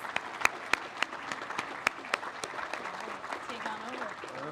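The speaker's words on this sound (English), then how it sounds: "Now let's give them all a big old round of applause." An audience claps for the nominees at a small business awards ceremony, a soft, fairly distant patter with a few sharper near claps standing out, continuing steadily for several seconds.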